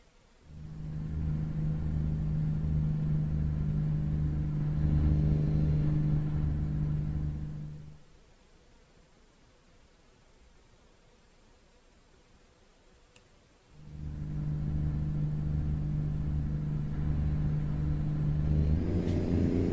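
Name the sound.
truck driving in American Truck Simulator video game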